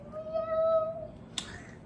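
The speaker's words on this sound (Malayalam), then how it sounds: "എന്റെ പൂച്ചക്കുട്ടി എന്റെ പൂച്ചക്കുട്ടി" A single drawn-out, thin meow from a small cat, followed by a short sharp click; quiet background, no talking.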